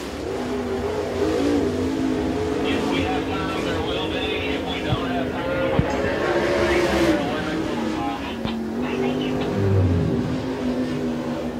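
Super late model race cars run on the track at Smoky Mountain Speedway during qualifying, engines droning and revving steadily at mid distance beneath an announcer's continuous commentary.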